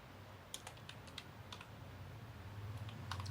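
Quiet, rapid tapping on a computer keyboard while entering data into an Excel salary slip, with irregular clusters of soft key clicks over a low background hum.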